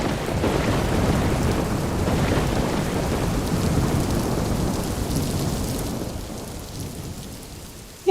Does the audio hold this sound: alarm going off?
no